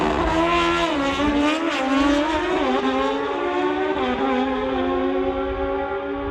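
A 1984 Suzuki drag-racing motorcycle at an NHRA Summit ET Series race roars at high revs, a loud continuous engine note with rising and falling pitch sweeps as it runs down the strip.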